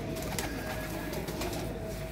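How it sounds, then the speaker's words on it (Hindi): Pigeons kept by a Pakistani pigeon fancier coo softly and steadily in a loft, the low murmuring continuous under a dense bed of background noise with no talk. "ये देखें जी कबूतर चेक करें"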